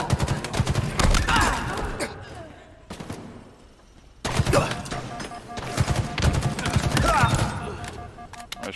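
Close, dense bursts of gunfire in the shooter Halo Infinite, with rapid automatic rattling, a short quieter lull, then heavy firing resuming.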